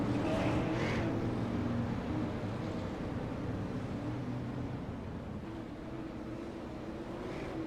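Race cars run in a pack behind a pace car down the back straightaway of an oval track, a steady, distant engine drone with a slight rise and fall throughout.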